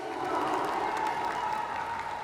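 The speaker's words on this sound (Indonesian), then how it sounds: "Boleh berikan tepuk tangan yang paling meriah Bapak Ibu." Dense, steady applause from an audience at a public presentation by regency head and deputy candidates in Empat Lawang, continuous and fairly loud throughout without any voices over it.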